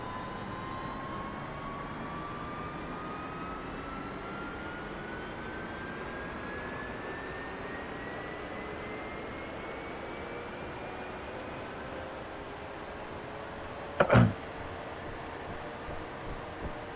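A helicopter starter spooling up in Microsoft Flight Simulator 2024, with a steady whine that rises gradually in pitch over a constant turbine hum, broken by one brief click.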